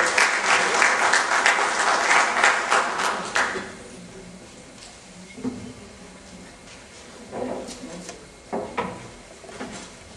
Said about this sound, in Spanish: Por favor, un fuerte aplauso para el doctor Palomino Manchego.